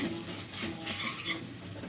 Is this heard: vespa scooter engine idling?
no